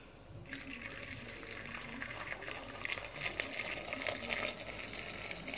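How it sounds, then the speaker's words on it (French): Boiling water pours steadily over tomatoes in a bowl, a continuous close splashing rush from start to finish with no speech. "On verse de l'eau bouillante."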